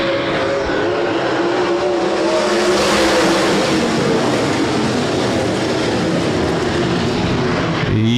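A pack of 360 sprint cars roar around Rapid Speedway in a dirt-track heat race, a dense, continuous engine howl that swells and holds loud throughout without any break.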